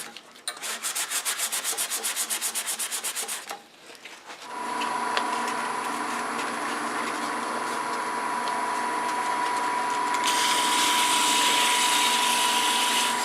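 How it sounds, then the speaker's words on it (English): Sandpaper of 150 grit rubbing against a spinning wooden multi-axis twig pot on a lathe, a steady close whooshing abrasion with a brief pause before the motor-driven sanding continues alone. "150 grit made short work of that. Sand with the grain."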